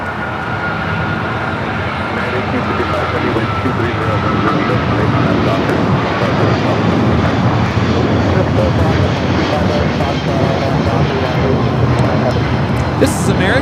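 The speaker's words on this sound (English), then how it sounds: "274 taking off to JFK on the 777-200ER" Loud, sustained jet roar from an American Airlines Boeing 777-200ER taking off at LAX, swelling slightly after the first few seconds and holding steady nearby, with no talk over it.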